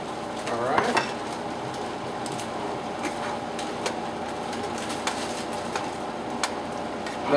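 Veggie pasta tossed in a pan, with a steady sizzle under scattered scrapes and clinks of a utensil against the pan and one louder clatter early on.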